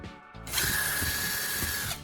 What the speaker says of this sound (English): First, drill a hole in the center of the lid, just big enough for the valve stem.